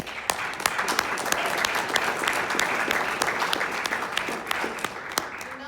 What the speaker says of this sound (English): Another round of applause for our candidates coming all this way from all over the U.S.